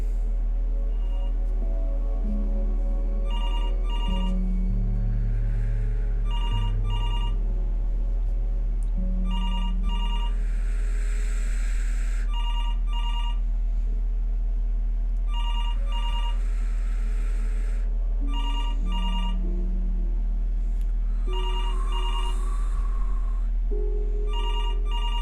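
Telephone in the game Before Your Eyes ringing again and again, a double-pulsed electronic trill repeating at regular intervals over a steady low drone and soft musical tones.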